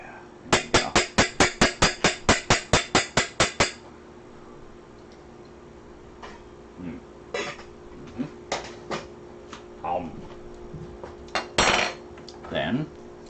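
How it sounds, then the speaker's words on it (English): A metal spoon scoops cooked rice from a kitchen pot, giving a quick, evenly spaced run of about a dozen close, bright clinks, then a few scattered softer scrapes and knocks. "First things first, we'll get some rice."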